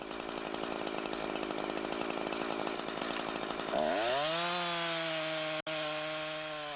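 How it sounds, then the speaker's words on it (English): A Husqvarna chainsaw saws a tree at full throttle, a loud, steady buzzing drone close by that drops and settles into a lower steady tone partway through, with a brief cutout near the end. "Give the saw full throttle and start sawing."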